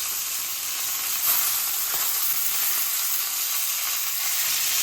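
Pork tenderloin fries in a hot pan with a steady, close hiss of sizzling fat that holds evenly throughout, with no voices.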